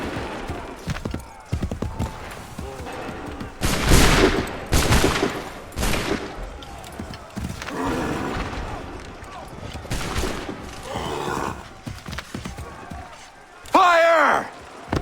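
Musket volley fire in Assassin's Creed 3, loud broadband bursts in a few spaced volleys with commands shouted between and around them, plus a sharp crackling blast near the end.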